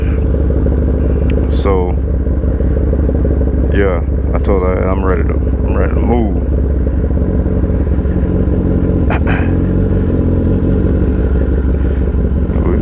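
A 2022 Kawasaki ZX10R motorcycle engine idling after a cold start: a loud, close, steady rumbling drone throughout, with someone talking over it in the first half.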